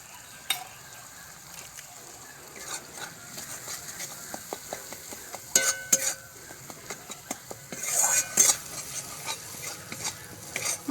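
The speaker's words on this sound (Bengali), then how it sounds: "মশলাগুলো কষানো হয়ে গেছে" A spoon stirs and scrapes a paste of dried red chilli, turmeric and salt frying in a pan, giving repeated clinks and scrapes over a low sizzle, busier toward the end.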